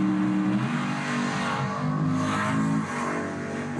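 A drag racing car makes its run down the strip, a loud, continuous engine roar sustained throughout with some variation in pitch, heard from trackside.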